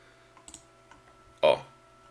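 A computer mouse clicks a search filter, giving one crisp, close click after a couple of fainter taps, with no talking.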